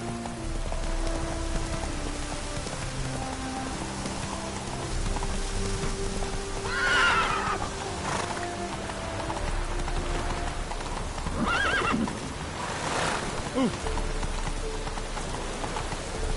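Roach the horse in The Witcher game, hooves clip-clopping steadily through rain with a couple of neighs and whinnies rising above the patter, close and continuous without talk.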